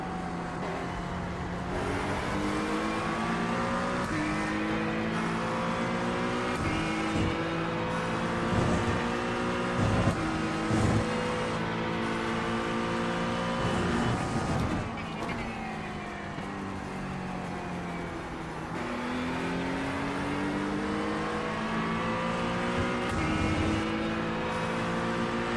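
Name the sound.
GT3 race car engine in iRacing video game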